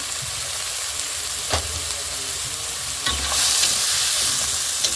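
Chopped onions and green chillies fry in oil in a wok, giving a constant close sizzle with occasional knocks of a spatula; the hiss swells brighter and louder near the end as the mixture is stirred.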